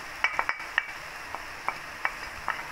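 Cabbage stirred into a pan with canned tuna flakes in oil: a string of sharp scraping and clinking strikes at irregular intervals over a faint, low sizzle.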